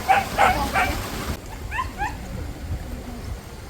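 A dog barks three times in quick succession, followed by a few softer high yips and whimpers in a quieter setting.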